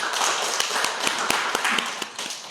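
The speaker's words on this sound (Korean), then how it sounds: "박수 한 번 더 부탁드릴게요" An indoor audience claps at a community center storytelling event, a steady close patter of hands lasting a couple of seconds with no pauses.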